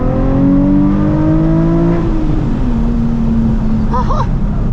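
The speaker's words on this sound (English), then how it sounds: "Should we gas it one more time?" A 2006 Nissan 350z engine revs up hard and then holds a steady drone while cruising at night, loud and close from inside the car, with a brief whine near the end.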